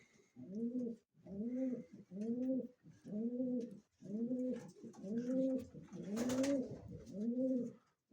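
Racing pigeons in a pigeon loft coo in a regular series of about eight rolling, throaty calls, each lasting under a second with brief gaps between them, close and clear against a quiet background.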